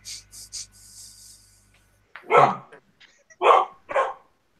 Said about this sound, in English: with the dogs barking outside the council